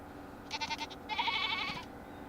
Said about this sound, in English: I think that was one of the goats.